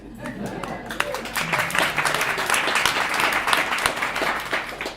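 A crowd at a U.S. House candidate forum applauds with dense, continuous clapping and some cheering, steady and fairly loud throughout.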